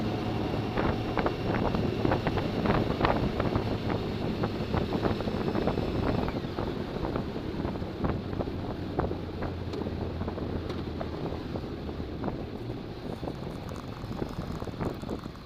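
Steady, loud wind buffeting a helmet microphone while riding a Tilting Motor Works Trio three-wheeled tilting motorcycle at speed, a continuous broadband roar with frequent gusty thumps throughout.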